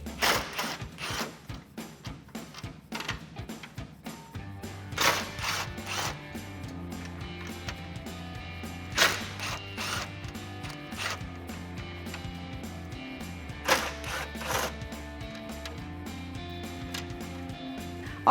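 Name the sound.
ratchet removing 10mm grill bolts on Silverado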